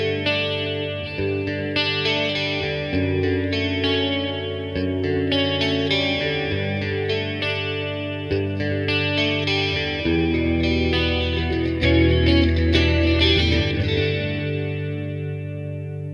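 Electric guitar plays sustained chords and melodic lines through a small beginner amp with reverb and delay, the notes ringing out and trailing with a washy, slightly distorted tail, continuous and alone.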